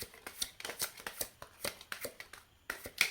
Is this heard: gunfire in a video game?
no